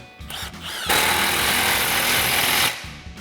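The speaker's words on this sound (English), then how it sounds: "we're gonna grab our impact and 15mm socket, tighten that down" A pneumatic impact wrench with a 15mm socket tightens an exhaust clamp on a RAM 1500 Flowmaster dual exhaust, one loud sustained burst of about two seconds with brief lower mechanical noise before and after.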